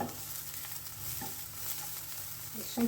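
Finely ground wet paste frying in a pan, a soft continuous sizzle with occasional stirring scrapes, close but quiet, no voices.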